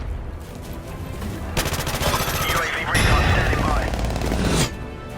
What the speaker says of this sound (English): The P90 has recoil, but it doesn't matter. You can just hip fire.